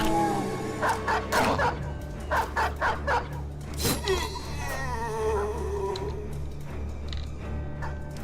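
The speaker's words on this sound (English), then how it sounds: "I like how this dog is chasing this Nacho in the back line" Dogs bark and yip in rapid bursts as they chase a player in a video game, mixed in with steady game music and effects throughout.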